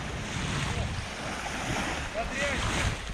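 Sea breeze blowing steadily at the beach in Lazarevskoye, Sochi, as a continuous broadband wind rush over soft surf, fairly even in loudness throughout with faint voice-like traces.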